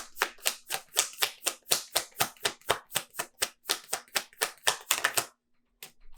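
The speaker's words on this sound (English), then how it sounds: "let's get 2 more cards here." Tarot cards are drawn and shuffled from a deck in a rapid run of about twenty crisp, close card snaps and flicks, one after another, ending in a brief pause.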